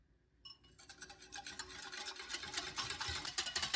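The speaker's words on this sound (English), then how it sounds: "Mix all ingredients." Spoon stirring lemon juice, salt and cinnamon powder together in a small bowl, a steady brisk scraping and clinking that starts after a short silence and continues close and fairly quiet.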